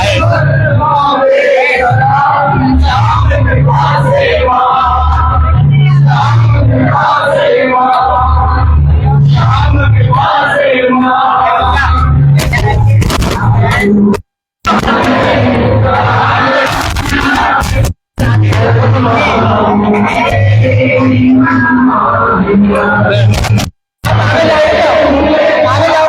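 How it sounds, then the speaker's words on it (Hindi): A dense crowd of devotees at the Baba Shyam temple in Kushalgarh, gathered for Hariyali Teej, chants and shouts loudly and continuously with only a few brief breaks. "बाबा के भव्य दरबार में इस समय जो श्रद्धालु है उनकी भीड़"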